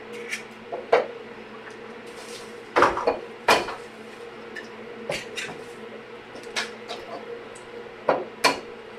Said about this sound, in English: going to mix up the eggs in this bowl.